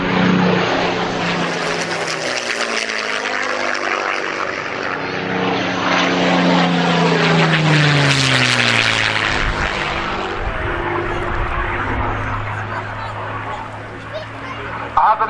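A Second World War propeller aircraft passing low overhead at about 200 feet, a loud droning engine whose pitch sweeps down as it nears and recedes, with a commentator's voice heard over it.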